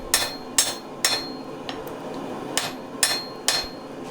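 A hammer strikes a forge-welded steel billet on an anvil, about nine sharp metallic blows at an even pace with one short pause in the middle, close and clear with no talking.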